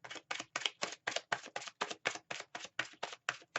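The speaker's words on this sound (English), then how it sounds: "Okay, cards are well shuffled." A tarot deck is shuffled by hand in brisk, evenly spaced papery slaps, about four per second, close and crisp with no talking.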